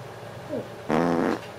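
A short, buzzy fart-like blurt rings out up close after a faint squeak, brief and fairly loud.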